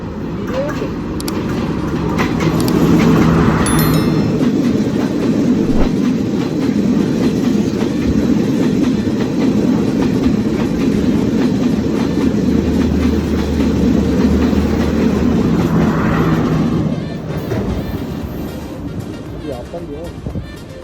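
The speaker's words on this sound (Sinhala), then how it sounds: "මං කිව්ව කෝච්චිය තමයි අර එන්නේ පේනවනේ" A train rumbles past close by, steady and loud, with clattering wheels on the rails and a brief high squeal.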